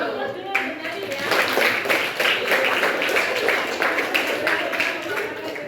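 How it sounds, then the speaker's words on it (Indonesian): Classroom applause for a student, a few seconds of steady clapping from a group of pupils, bright and fairly close, after a teacher's voice. "Aplaus dulu untuk Nadine ya."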